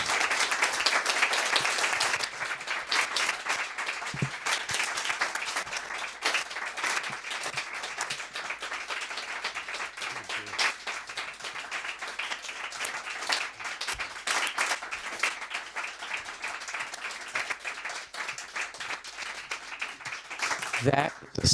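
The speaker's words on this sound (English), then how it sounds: "that is a sustained applause" Sustained applause from an audience following a poetry reading, an even, continuous patter of many hands clapping at moderate distance, with a louder opening burst.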